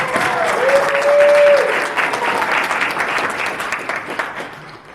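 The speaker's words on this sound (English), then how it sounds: "So if you guys give her a great round of applause." A crowd at a convention panel bursts into close, dense applause. A brief whistle-like tone rises early on, and the clapping then tapers gradually.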